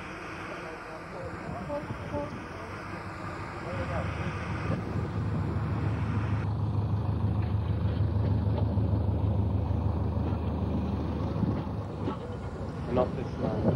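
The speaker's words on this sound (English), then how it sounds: "a great many locomotives are in steam and running around" Steam locomotives in steam at the 1986 Ffestiniog Railway gala, some oil-fired, rumbling steadily nearby with a deep, continuous low chuff and hiss that swells in the middle, voices murmuring faintly beneath.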